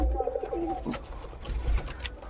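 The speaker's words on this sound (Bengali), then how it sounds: "তোমাদের কিছু কবুতর দেখাই" Pigeons coo close by in low, soft throaty phrases, a couple of rolling calls over a faint background hum.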